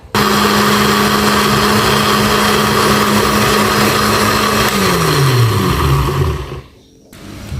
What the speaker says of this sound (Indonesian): Kemudian kita akan haluskan dengan blender ya.